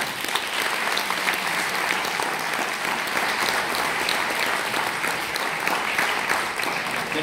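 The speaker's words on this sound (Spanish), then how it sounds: "Vamos a darle un aplauso por si hay alguien aquí en representación." Steady, dense applause from a live audience at a band's presentation, loud and sustained throughout with no voices on top.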